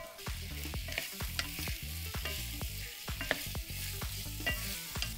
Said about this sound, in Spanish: vamos a agregarle la salchicha para que se empiece a dorar poco a poco